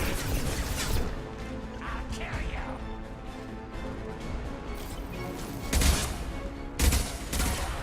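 Gunfire in the video game Mass Effect 2 rattles in continuous bursts with sharp cracks and impacts, loud and busy, over a dense game soundscape with a few heavier hits near the end.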